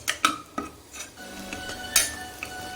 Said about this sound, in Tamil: நம்ம சின்ன வெங்காயம் நல்லெண்ணெயோடு சேர்த்து வணக்கும் போது